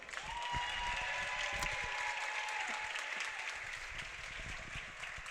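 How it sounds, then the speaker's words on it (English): Sustained applause from a crowd honors senior women's basketball players at a Trinity home game, steady and moderately loud for several seconds, with a faint tone sliding underneath. "And how about a rousing round of applause for our Tiger seniors, Anna Muller, Jill Trinity, and Abby Holland"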